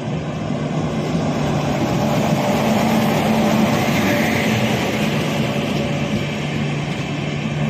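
Goods train on the Konkan Railway, heard as a steady, loud rumble of rolling stock with a low mechanical hum, continuous and even throughout, with no voices present.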